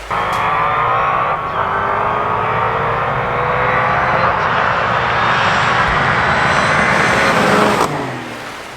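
A Dodge Hellcat drag races a McLaren, and loud engine roar and rushing exhaust sound fill the stretch, surging steadily before easing off near the end, with no talk.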